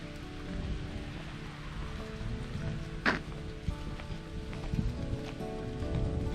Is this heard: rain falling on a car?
yes